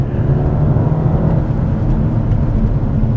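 A 2021 BMW 228i Gran Coupe on 19-inch low-profile tires accelerating in third gear, heard from inside as a loud, steady engine drone with road rumble and no speech.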